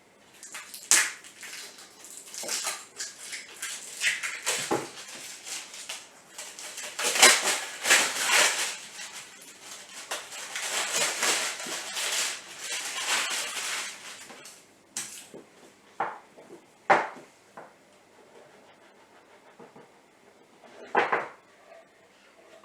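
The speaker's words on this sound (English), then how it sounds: "So we'll get and rip it open and have a look." A field monitor's cardboard box is ripped open, with bursts of tearing, rustling and scraping, irregular and close, thinning to a few sharp clunks and crackles near the end.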